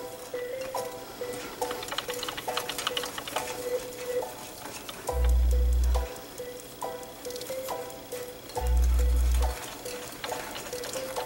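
Blondie brownie batter with flour and salt being mixed in a bowl, giving a steady scraping and stirring texture with regular strokes, plus two heavy low thumps from the mixing.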